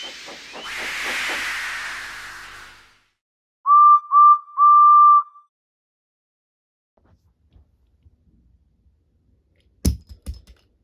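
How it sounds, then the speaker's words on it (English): A toy steam locomotive lets off a long, loud hiss of steam, followed a moment later by three short whistle toots. Faint clicks come after, then a sharp final burst. "they lit his fire, made lots of steam, and Edward puffed away"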